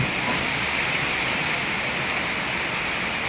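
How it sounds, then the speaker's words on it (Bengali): Heavy rain pours down during a storm with strong, gusty wind, forming a dense, steady roar that stays loud and unbroken throughout, with no voices. "দেশের অবস্থা খুবই খারাপ বৃষ্টি করছে ঝড়ও হচ্ছে"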